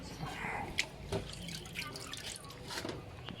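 Faint water drips and small splashes come from vegetables soaking in salt water, a few scattered close ticks over a quiet, slightly hissy background with no talking.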